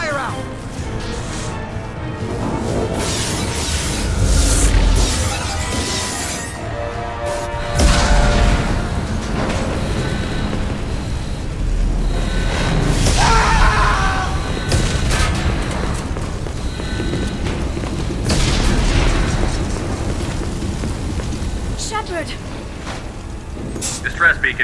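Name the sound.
explosions and ship damage in Mass Effect 2 video game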